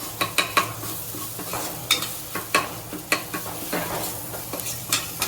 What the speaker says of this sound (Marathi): तेल टाकलं हिरवं वाटण टाकलं आणि त्यात आता मसाले जातील